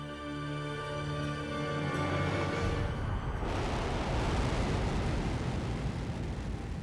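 A Russian Soyuz rocket launching with a surveillance satellite aboard: a steady tonal hum swells into a loud, continuous, broad roar that keeps going without a break.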